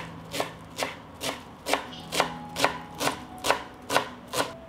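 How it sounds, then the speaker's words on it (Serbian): A knife chopping a small bunch of fresh parsley on a board, about ten evenly spaced crisp cuts in a steady rhythm, close and clear, with no talk. "iseckat ću jednu manju vezu svežeg peršuna"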